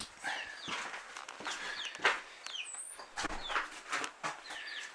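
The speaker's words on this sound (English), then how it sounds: "I'll bring you in here real quick so you can see the new birds" New young chicks huddled under a heat lamp on a homestead chirp in a steady, close stream of high peeps, with soft shuffling and footstep-like bumps beneath.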